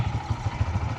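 A motorcycle engine idles nearby with a steady low throbbing pulse and slight mechanical clatter, running alone without talk.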